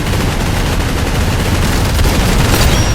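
Rapid sustained gunfire from a video game weapon, dense and continuous for the full stretch, loud and close with deep booming low end and no pauses.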